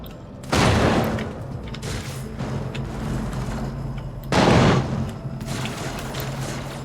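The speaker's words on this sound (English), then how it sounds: "Oh god, they're shooting at me." Gunfire from an improvised gun in the Warhammer 40k: Rogue Trader video game, two heavy booming bursts about four seconds apart over a continuous low rumbling backdrop.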